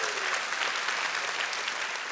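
Steady applause from a church or lecture audience celebrating Harriet Tubman, a dense wash of clapping at moderate volume, continuous from start to finish.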